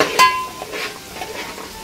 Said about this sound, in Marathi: आणि आता इथे लसूण अद्रकची पेस्ट टाकली